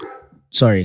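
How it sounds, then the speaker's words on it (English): Gus, a dog outside, gives a single loud, sharp bark right after a quiet pause, with a voice heard just before it. "Gus is busy barking outside"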